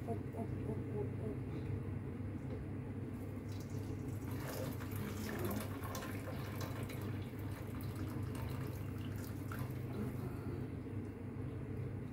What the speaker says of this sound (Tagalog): Tanggalan ko ng tubig.